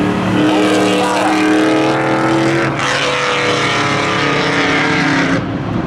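A Camaro races in spectator drag runs at Seekonk Speedway, its engine roaring loud and close with steady high revving that shifts pitch partway through, joined by other cars in a continuous racing din.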